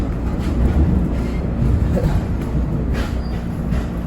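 Interior rumble of a MARC passenger train pulled by a Siemens Charger locomotive on the Washington DC to Baltimore run, a steady low roar with faint rattles throughout, no talk.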